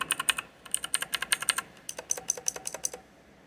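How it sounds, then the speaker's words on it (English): Jailhouse-modded Outemu blue mechanical keyboard switches are typed on in quick bursts, each keystroke a sharp, close click in an irregular rhythm, with a short pause midway. "They're all jailhouse modded, and this is what they originally sounded like."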